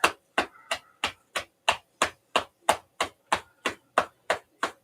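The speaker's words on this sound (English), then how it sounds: "flattening out the hand, tapping down the underside of the arm" An open hand taps rhythmically down the underside of the arm during a seated qigong routine, giving a dozen evenly spaced, crisp slaps close to the mic with brief silences between them.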